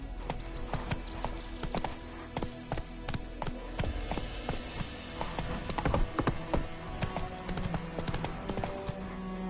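Roach, a horse in The Witcher 3 on PS5, gallops with a rapid, steady clip-clop of hooves, close and moderately loud, amid game ambience and no talk.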